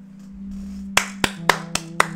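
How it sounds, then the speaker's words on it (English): Five sharp hand claps ring out at a steady, slightly uneven pace, close and loud over a low steady hum, with no talking. "Clap it up."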